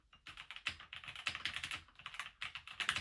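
Rapid typing on a mechanical keyboard, a dense run of crisp, close clicking keystrokes with brief pauses, clear and alone with no voices.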